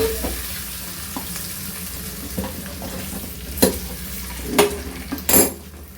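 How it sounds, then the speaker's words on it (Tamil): Fried brinjal kosthu being stirred in a pressure cooker: a low steady simmer and sizzle underneath, with a few sharp metallic scrapes and clinks of the spoon against the cooker, close by. "இதை நம்ம இப்போ கிளறி விடுவோம்"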